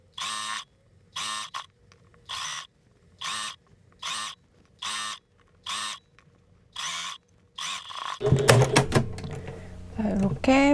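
A sewing machine stitches down the facing of a square-neck flared blouse in about eight short, evenly spaced bursts of whirring, followed by a voice talking near the end.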